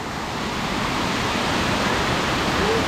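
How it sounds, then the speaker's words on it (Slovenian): Close waterfall in Bosnia, just a few metres from a cabin, giving a steady, loud broadband rush of falling water with no pauses and no voices. "Tale čudoviti slap se nahaja samo par 10 metrov od naše hiške."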